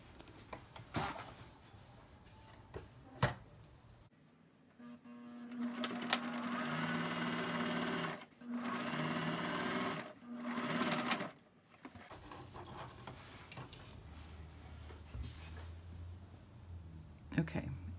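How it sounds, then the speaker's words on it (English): A sewing machine stitches along a long-sleeve shirt being shortened, running in two steady whirring bursts with a brief stop between, with handling noises before and after. "take it to the machine and sew along this white line"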